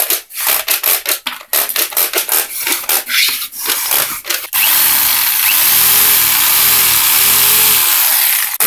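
Toy jigsaw from a kids' tool set sawing, a buzzy steady mechanical whir with rising and falling motor pitch, following a stretch of irregular rubbing and tapping strokes.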